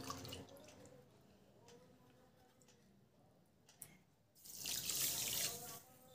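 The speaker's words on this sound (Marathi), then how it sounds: "कप तुम्हाला पाणी घालायचं आहे." Water poured from a cup into 1.5 cups of sugar in a pan to make syrup for angoor basundi; a soft trickle swells into a loud, steady gush near the end.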